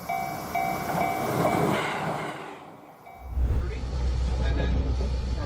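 A small train rolls along railroad tracks with a steady rumbling roar and faint clatter, deepening into a heavier low rumble in the last couple of seconds as it draws closer.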